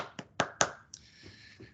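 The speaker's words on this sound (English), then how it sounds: "So I think that is worth a little round of applause, even if it's just from me" One person clapping alone, close up: three sharp hand claps in quick succession, followed by a softer fourth clap and a couple of faint taps, in a quiet room.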